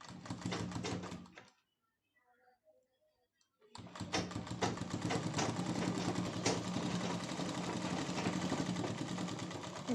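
A sewing machine runs in fast, rhythmic bursts while stitching the neckline of a child's frock, stopping for about two seconds before starting up again and running steadily to the end.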